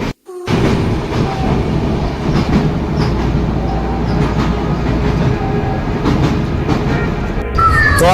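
A crowded passenger train heard from inside a standing-room coach, with a loud, continuous rumble and rhythmic wheel clatter on the rails and a few faint squeals, steady throughout.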